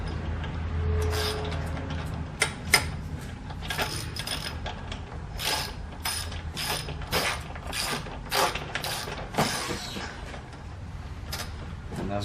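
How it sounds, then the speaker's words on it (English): A 14mm socket puller is tightened to draw the crank arms off an e-bike crank housing, giving repeated clicks and ratcheting creaks in an irregular run at close range, loud and with no talk over it. "it's going to pull these arms right off as we tighten down the tool."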